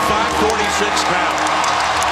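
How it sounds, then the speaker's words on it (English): A basketball arena crowd during an NBA playoff game between the Grizzlies and Blazers roars steadily on its feet, a dense, loud wash of cheering that fills the whole moment. "Crowd on their feet."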